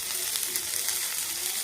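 Fenugreek leaves hiss and sizzle steadily in hot oil with onion tempering, a dense, even frying crackle held close throughout with no voices.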